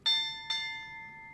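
Ship's bell tolling at a memorial ceremony aboard USS Midway, two clear metallic strikes about half a second apart, each ringing out and decaying slowly, close and alone with no talk.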